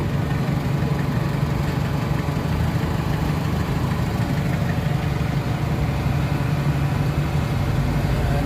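Mitsubishi Adventure engine running at a steady raised idle near 2,000 RPM, a continuous close low hum and drone with no break and no talking.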